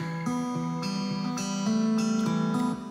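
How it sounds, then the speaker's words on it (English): Acoustic guitar riff run through an electric amp for slight grit, recorded in Logic: a short sequence of picked notes and chords at moderate level, played alone with no speech. "I started this by coming up with this little riff on the guitar."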